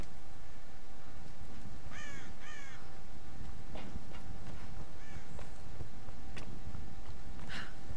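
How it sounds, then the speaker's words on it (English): Several crows caw in a video game Tomb Raider scene, a pair of quick harsh calls followed by scattered further caws and a final loud one, set over a constant hissing ambient background with no talk. "Birds, y'all are starting to drive me crazy."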